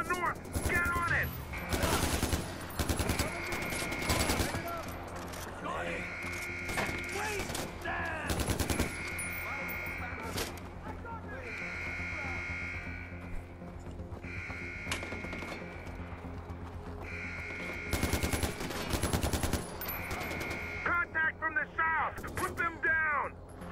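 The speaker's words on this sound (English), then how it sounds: "I'm taking fire." Bursts of automatic gunfire from the Far Cry 4 video game on PS4 crackle in several loud volleys separated by quieter stretches, with voices talking over the combat.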